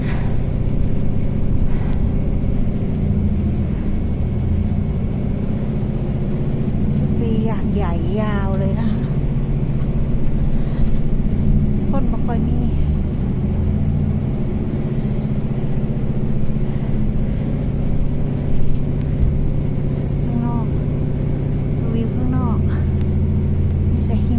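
Inside a city bus on the ride home: a steady low engine rumble and road noise run throughout, with occasional brief squeaks and rattles and someone talking over it.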